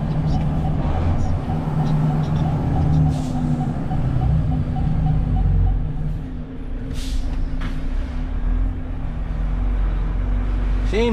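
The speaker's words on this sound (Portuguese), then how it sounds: "Quando eu piso no freio, dá essa descarga de ar, é normal?" Sharp hisses of released air burst from a truck's air brakes several times over a low, rumbling engine idle inside the cab.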